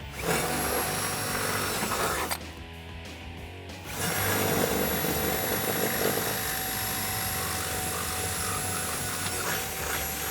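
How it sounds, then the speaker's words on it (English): An electric drill with a 1/8 inch bit bores a pilot hole in a 2015-2019 F150 bed rail, a loud sustained whine under load that briefly stops and then resumes, close and continuous without talk. "You'll need a 5/16 drill bit for this, but to make it a little bit easier, I definitely recommend drilling a pilot hole."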